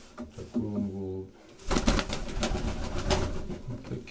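Red pigeons cooing in a soft, throaty, rolling coo, followed by a louder burst of rustling and fluttering under the calls, close and clear.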